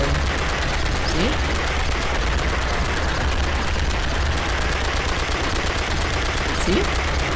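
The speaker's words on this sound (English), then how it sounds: "I think on Revenge Day, you can just pull down the trigger and everything will start exploding." Gunfire and explosions in a video game, a constant loud wall of rapid shots and blasts that runs unbroken and close for the whole stretch.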